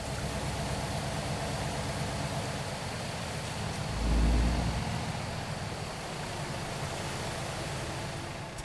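A truck engine idles steadily in American Truck Simulator, a low, even rumble with a brief louder surge midway before settling back to a constant hum, with no talking.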